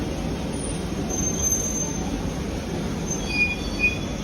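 A London Underground Central Line train rolling on without stopping, a steady close rumble of wheels on rail with faint high squeals, continuous and moderately loud.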